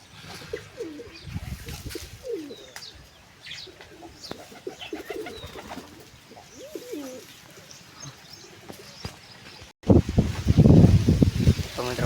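Pigeons, white and red-grey birds kept for training, coo repeatedly with soft rolling calls at close range under low background noise, and a person speaks over a louder burst near the end.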